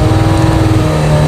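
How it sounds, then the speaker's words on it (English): A loud motorbike engine revs steadily and close by before a burnout, a continuous throaty drone with a sustained low hum and no pauses. "So it's get my revs up"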